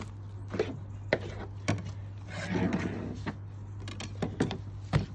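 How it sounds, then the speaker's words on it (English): A knife working along a deer carcass during butchering, peeling back tissue toward the neck fillet; soft close scraping and slicing with sharp knocks and clicks scattered through, and a longer rasping cut in the middle. "We peel that back, and then we run our knife"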